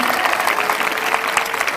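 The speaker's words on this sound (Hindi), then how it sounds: "एक ताली खुदावन की महिमा के लिए बजेगी" A church congregation claps together in a dense, continuous burst of applause. It is loud and close and fills the whole short moment without a pause.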